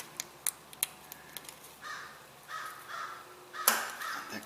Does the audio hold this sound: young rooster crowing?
no